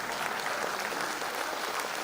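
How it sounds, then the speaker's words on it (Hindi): Audience at a live investment workshop in Mumbai breaks into dense, sustained applause, many hands clapping loudly and evenly throughout with no speech over it. "क्या तालियां हो जाए कम से कम?"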